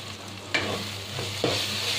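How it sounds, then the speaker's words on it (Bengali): Arum stems cook in a pan with Kashmiri chilli powder, salt and turmeric, a continuous sizzle marked by two distinct stirring scrapes close by. "একটু নাড়াচাড়া করে নেব।"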